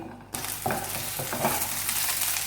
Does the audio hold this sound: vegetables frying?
yes